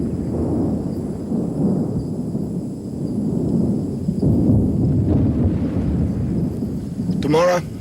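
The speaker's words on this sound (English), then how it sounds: "by the look of that lightning there, I reckon I'm in for a pretty wet time of it" Thunder from a lightning storm on the coast rumbles low and steady, a broad rolling roar, while someone talks over it.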